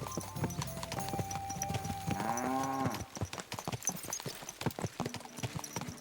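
Horse hooves clip-clop steadily on the ground in the medieval game Kingdom Come Deliverance II, close and rhythmic, with a brief whinny in the middle and soft background ambience.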